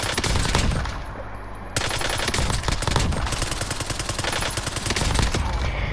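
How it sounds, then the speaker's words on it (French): Rapid automatic bursts from the PP-919 submachine gun in a video game, a loud sustained rattle with a short pause partway, then continuous fire to the end, heard alone without talk. "l'arme c'est la PP-919. Je vais vous montrer un peu ce qu'elle donne."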